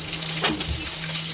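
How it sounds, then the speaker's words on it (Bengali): Pieces of rohu fish fry in hot oil with a steady, close sizzle and a brief scrape partway through, with no voices. "মাছগুলোকে আমরা ভালো করে ভেজে নেব"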